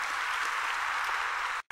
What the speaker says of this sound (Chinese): 所以我们再鼓掌